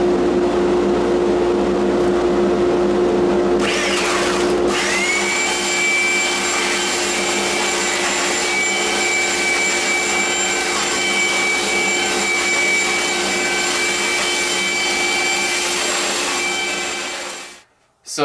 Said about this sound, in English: I've got a 36 grit belt on. We'll just knock down these edges